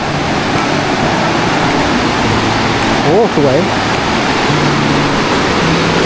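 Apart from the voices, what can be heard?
waterfall (Tat Ton waterfall, Chaiyaphum)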